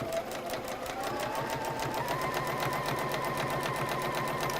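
A sewing machine hums quietly and continuously, its rapid needle strokes pulsing evenly while chain piecing fabric pieces one after another at a moderate distance.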